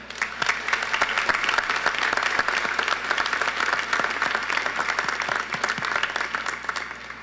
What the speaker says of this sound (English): let's have another round of applause for Christiana Summers, who sang our national anthem